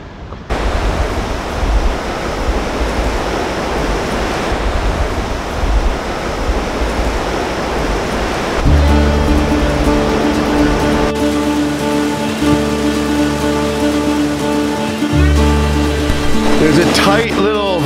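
Rushing river rapids roar as a loud, steady wash of water noise that continues throughout, with a sustained tonal hum joining the roar partway through.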